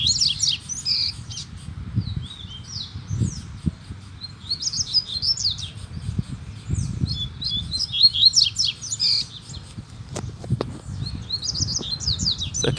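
Double-collared seedeater (coleiro) chick begging for food from its parent, giving repeated high squeaky chirps and calls in quick bursts, mixed with other birdsong in an outdoor setting with steady low background rumble.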